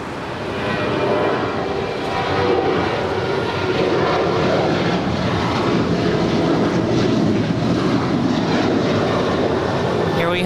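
Airliner engines roar continuously and loudly at LAX airport, a broad sustained rumble with no one speaking.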